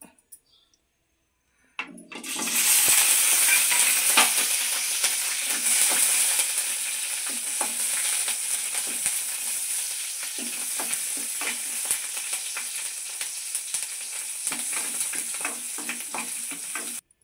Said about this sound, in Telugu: మిరపకాయలు వేయించుకోవాలి, పచ్చిమిరపకాయలు 2-3.